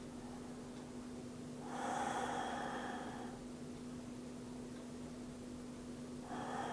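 Forceful abdominal pumping breaths from a yoga pranayama exercise: one long, loud, snorting rush of air through the nose, a pause, then another burst starting at the end, over a steady low hum.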